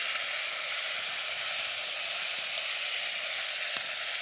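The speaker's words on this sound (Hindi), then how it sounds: "क्या मस्त फ्राई हो गया।" Food sizzles steadily as it fries with spices in a pan over a wood fire, a continuous close crackling hiss with a faint click near the end and no voices.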